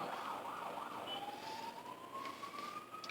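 An emergency vehicle siren, ambulance or fire engine, wails steadily across the whole stretch with a slowly rising pitch, passing at moderate distance over street noise, with no talk.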